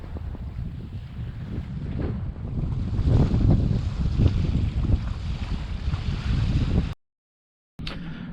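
A sailboat glides across a quiet bay near Key Biscayne, Miami, with steady wind rush and water washing along the hull, fairly loud and continuous, broken by a brief dropout near the end.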